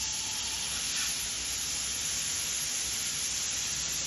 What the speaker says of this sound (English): go ahead and put some of this olive oil here on the pan. Get that sizzling down.